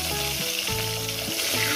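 Long-cut potato strips fry in hot oil, a dense, steady sizzle and crackle close by with a faint tonal hum underneath, no talk.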